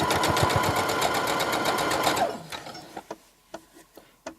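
A sewing machine runs a straight stitch seam along an infinity scarf with a fast, steady mechanical whir that stops after about two seconds, followed by a few sparse clicks and taps from handling the fabric.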